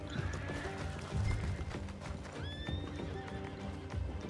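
Horse in the Red Dead Online video game whinnying with rising squeals over steady hoofbeats, with galloping clip-clop and a busy game soundscape throughout, no speech.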